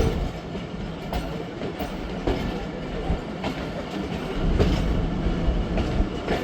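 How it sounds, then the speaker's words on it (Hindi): The Khyber Mail passenger train rolls through Gujranwala station on its second line, a steady near rumble with rhythmic clickety-clack of wheels over rail joints and occasional louder knocks, no talk. "और ट्रेन को आज सेकंड लाइन पर रिसीव किया गया है।"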